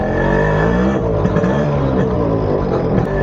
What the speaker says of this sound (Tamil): இந்த வண்டியை ஃபாஸ்ட்டாக கொண்டு போகிறத விட இந்த மாதிரி ஸ்லோவாக அந்த ஒரு பீட்டை கேட்டுட்டு போகிறது ஒரு தனி சுகம்தான் இல்லையா?